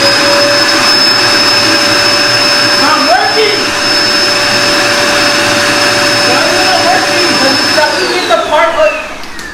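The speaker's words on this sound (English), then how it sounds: "Okay, where's the vacuum?" A vacuum cleaner runs loud and close with a steady high-pitched whine and motor roar, its pitch shifting slightly near the end as muffled voices talk over it.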